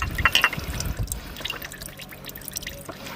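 Motor oil drains from a car engine during a home oil change, a steady liquid trickle with scattered drips, close by and moderately quiet.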